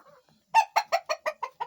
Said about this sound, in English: Yeah, these are all my chicken.